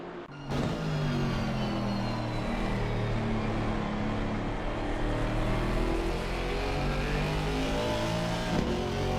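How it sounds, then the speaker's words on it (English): On-board sound of a Mercedes-AMG GT4 race car with a 4-litre twin-turbo M178 V8, lapping the Hungaroring circuit: a loud, continuous engine roar with rising and falling revs through gear changes, close and steady throughout. "We'll stay on board with the Mercedes here of Sutton on his way potentially to the 2nd row."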